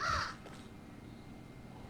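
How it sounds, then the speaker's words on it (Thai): A crow caws once, loud and harsh, in a dark open field at night, then fades into a faint, quiet background hiss. "ไม่มีไฟแต่มีนกอีกาว่ะ"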